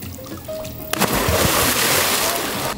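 Water in a backyard swimming pool on a hot day gives a sudden close splash, followed by sloshing and dribbling, with faint voices in the background.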